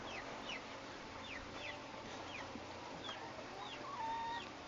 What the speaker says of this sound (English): So we have a few chickens.